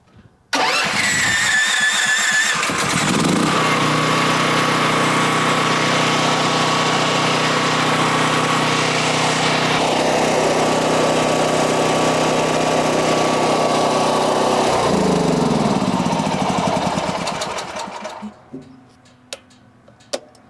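DuroMax XP13000EH dual fuel generator running on propane cranks and fires up, then holds a loud, steady engine drone for about fifteen seconds before winding down and falling quiet, with a few faint clicks at the end.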